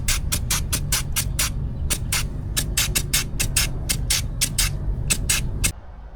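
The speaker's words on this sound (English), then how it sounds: "we're going to pump some grease in here so that it can set and get back in the bearings." A grease gun pumps grease into boat trailer wheel bearings, giving a rapid series of short, sharp hissing squirts in an uneven rhythm over a low steady background hum, close and fairly loud.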